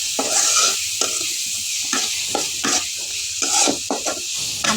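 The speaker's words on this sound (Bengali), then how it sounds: "তারপর এগুলোকে ভালোভাবে মিক্স করে নেব" Shrimp, dried shrimp, potato and Malabar spinach stirred and mixed in a pan, with repeated scraping strokes over a steady sizzle, close and fairly loud, no voices.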